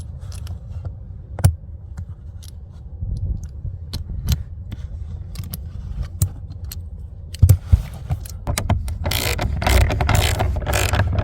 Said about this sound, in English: we'll go ahead and use our extension and a 3/8 ratchet